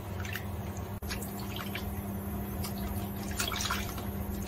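Oysters rubbed clean with flour in a basin of water, giving a steady wet swishing and dripping texture with small splashes over a constant low hum, close and moderately quiet, no voices.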